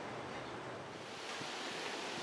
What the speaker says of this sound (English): it is a bit windy out today